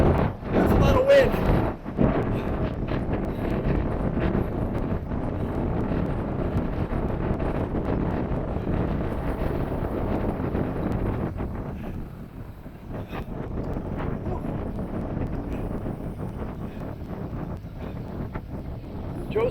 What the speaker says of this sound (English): that's a lot of wind